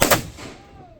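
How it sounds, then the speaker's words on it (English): A single deep, booming blast from a cannon fired at the fort on Mackinac Island, sharp at the start and then rolling away into a long fading rumble. "Here's your cannon firing, folks."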